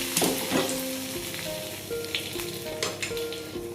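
A hot tempering hits buttermilk curry (majjiga pulusu) with a loud burst of sizzling that settles into a steady crackle with faint clinks, heard up close without voices.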